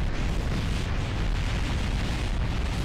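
A JDAM bomb explodes in Kerbal Space Program, a dense, continuous roaring blast with heavy low rumble that fills the whole moment at high, even loudness.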